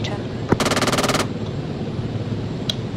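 Burst of rapid automatic gunfire aimed at a helicopter in the video game Arma 3: one sharp shot, then a steady fast volley of roughly a second, with a faint distant pop later against low background rumble.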